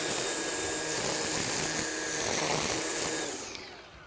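A Makita XRU18 cordless string trimmer runs at speed 2 cutting Bahia grass, giving a steady, loud, close whine with a broadband whir that holds throughout, easing slightly near the end.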